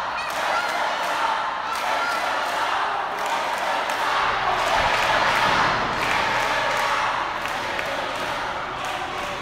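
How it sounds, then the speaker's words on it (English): A crowd at a live wrestling event roars and cheers loudly and continuously, with rhythmic chanting and clapping pulses running through the noise and no clear commentary on top. "Listen to this crowd."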